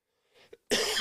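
A faint throat noise, then one sharp, loud cough up close, alone with no talking.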